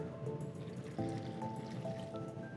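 Vinegar is poured into a pan holding garlic and raspberries, giving a faint, close trickle with light drips and a small splash partway through, heard alone without talking.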